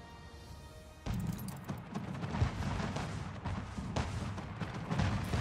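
Anno 1800 gunboats firing cannons in a naval battle: after a quiet second, a dense, continuous run of booming shots and rumbling impacts, loud and sustained with no talk.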